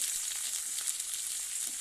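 Chopped onions fry in oil, giving a close, even sizzle that holds steady through the short stretch, with no voices.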